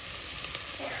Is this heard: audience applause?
no